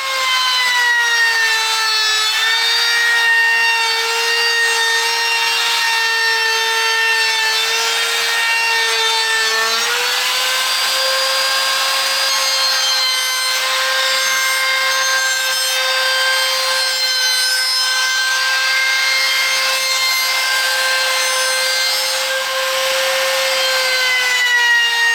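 A router cutting round-over profiles along the edges of a wooden ellipse frame, a steady loud high whine with a tone that dips slightly midway and continues unbroken, with no talking.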